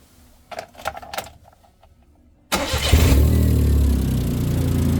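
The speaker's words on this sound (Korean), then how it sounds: "한번 시동 걸어 보겠습니다" A car engine cranks and catches after a few key jangles, then settles into a loud, steady idle with a noisy, faulty muffler, heard up close with no talking.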